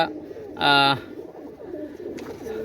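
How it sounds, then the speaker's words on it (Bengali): A pigeon, among teddy pigeons kept for sale, gives one short harmonic coo at close range, standing out against a low murmur of background noise. "অনেক সুন্দর কবুতর"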